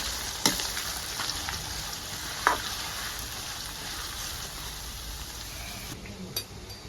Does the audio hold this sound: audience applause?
no